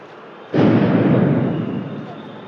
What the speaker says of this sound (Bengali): সাউন্ড গ্রেনেড কিন্তু বারবার এখানে ছোড়া হচ্ছে